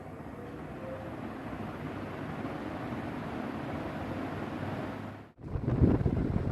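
Crompton HS42 high-speed 42-inch (1050 mm) ceiling fan runs with a steady, close, broadband rush of air. The sound briefly drops out near the end and then returns a little louder.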